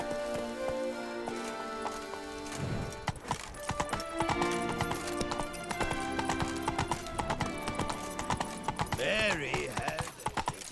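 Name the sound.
horse galloping in video game The Witcher 3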